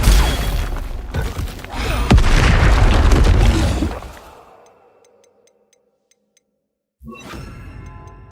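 Expelliarmus spell cast in Hogwarts Legacy: a loud magical burst with a booming, crackling blast that sustains for several seconds and fades away, followed after a short silence by another sharp spell impact.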